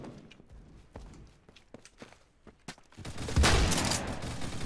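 Gunfire from a shotgun in a Roblox video game, a scatter of sharp shots followed by a louder sustained burst of rapid firing toward the end.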